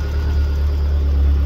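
A freshly built Badger 5 race engine runs at a steady idle on its first start, a loud, low, throbbing drone with a fast regular pulse and a faint whir on top, heard close and alone.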